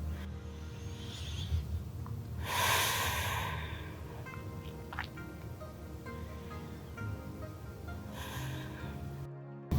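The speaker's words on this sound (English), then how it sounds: "hold this in 2 deep breaths" Deep breathing during a yoga hold: two soft, broad rushes of air several seconds apart over a quiet, low background hum.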